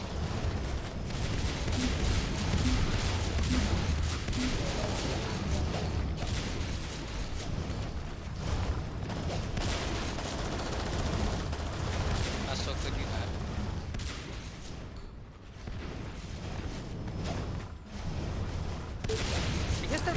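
Heavy machine gun fire from the HMG in the video game Natural Selection 2, a dense, continuous barrage of loud gunfire with explosive booms running through the whole stretch.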